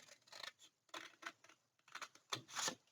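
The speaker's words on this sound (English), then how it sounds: "Use your big scissors so you have a nice straight cut." Large scissors snip through patterned paper in a series of short, crisp cuts with brief pauses between them, heard up close with no talking.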